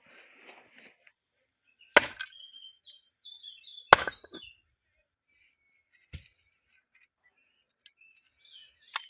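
A heavy sledgehammer striking a large 7.5 kW electric motor outdoors, a few sharp isolated metallic impacts spaced seconds apart, each with brief ringing, amid near silence.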